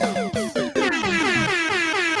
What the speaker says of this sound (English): you might want to hold on to that air horn